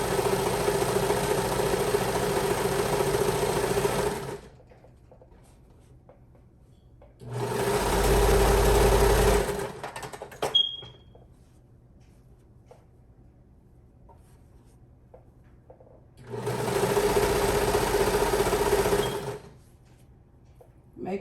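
A sewing machine stitches a T-shirt dress seam in three bursts of a few seconds each, a steady close motor whir with quiet pauses between, one short click in a gap.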